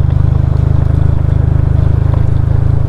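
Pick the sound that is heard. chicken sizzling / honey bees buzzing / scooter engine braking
scooter engine braking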